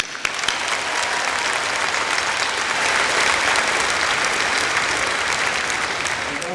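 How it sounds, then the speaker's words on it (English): Crowd applause for graduates at a spring School of Education, Health & Human Services commencement ceremony, a loud sustained roar of many hands clapping close by that swells slightly midway, with a few faint cheers. "And one more round of applause."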